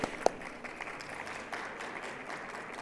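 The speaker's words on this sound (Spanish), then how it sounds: "Tenemos a Andrés Lacerna, director regional de la TAM de Instructure Canvas, para el cual pido un fuerte aplauso, por favor." Audience applause for a panelist at an education conference, a moderate, fairly distant patter of clapping with one sharp nearby clap near the start, continuing steadily at a modest level.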